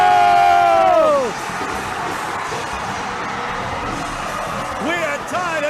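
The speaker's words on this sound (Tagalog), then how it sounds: "And listen to the crowd." A basketball arena crowd cheering during an overtime-bound PSL President's Cup game, a loud roaring wall of shouts and whoops with a commentator's voice over it and a whistle-like tone early on.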